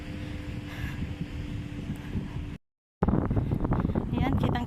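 Wind gusting during a sandstorm in Kuwait, a steady loud roar buffeting the microphone, cut by a short dropout and then surging back rougher and stronger.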